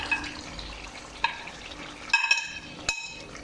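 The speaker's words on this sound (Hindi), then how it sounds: "2 से 3 मिनट इसकी भुनाई करेंगे।" Chicken karahi with crushed green chillies frying quietly in a pan: a soft, steady sizzle broken by a few sharp clinks and scrapes of stirring.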